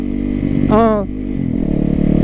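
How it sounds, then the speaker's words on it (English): A supermoto motorcycle ridden on urban streets, its engine running loud and close with a steady throaty drone and a brief rising rev partway through. "We out here having some fun out here on my supermoto."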